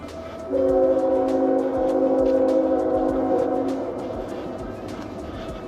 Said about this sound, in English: you can sure hear that train